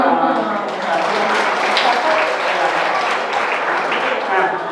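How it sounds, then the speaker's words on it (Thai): Audience applause at a school opening-day welcome assembly, steady dense clapping throughout at moderate loudness, with a faint voice underneath. "ขอเสียงปรบมือให้กับน้อง"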